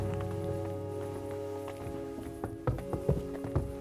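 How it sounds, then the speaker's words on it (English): Footsteps in the video game Kingdom Come Deliverance 2 fall as a series of dull, irregular thuds building in the second half over a steady ambient hum. "I hear footsteps."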